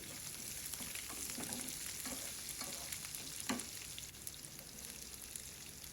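Cut snake gourd frying in a pan with onion, garlic, cumin and curry leaves, a soft steady sizzle under scattered stirring clinks and scrapes, close and quiet, no speech.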